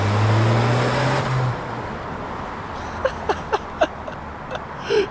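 A Dodge Power Wagon truck with a catless exhaust drives off, its loud low engine rumble fading after a couple of seconds, followed by a few sharp clicks and knocks nearby.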